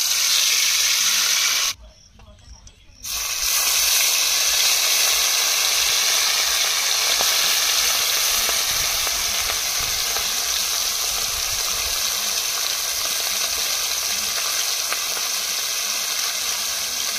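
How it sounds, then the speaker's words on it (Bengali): Steady, bright sizzling of fish frying in hot oil in a wok, continuous and close, with a brief drop in sound near the start before it resumes. "মাছগুলো ভাজা হচ্ছে।"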